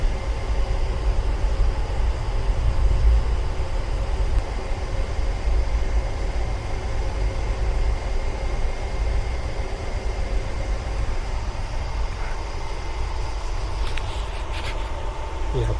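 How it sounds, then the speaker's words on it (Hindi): A train at Luni Junction railway station in Rajasthan, a loud, steady rumble that holds throughout, with faint voices mixed into the background. "ये लूनी जंक्शन का रेलवे स्टेशन है।"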